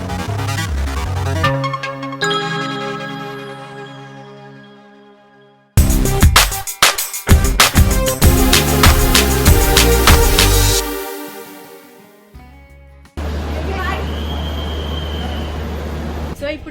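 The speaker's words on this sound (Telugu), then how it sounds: "ఈ ట్రైన్ ఉంది కదా, ఇది వచ్చేసి Vijayawada Dharmavaram special festival train express అన్నమాట" A Vijayawada–Dharmavaram special festival express train is loud and close, with rumbling, rolling clatter and drawn-out tonal sounds broken by abrupt cuts.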